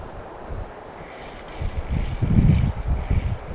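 Wind blowing at a campground in the Everglades, a low rumbling gust buffeting the microphone that swells midway and stays strong to the end, with no talking.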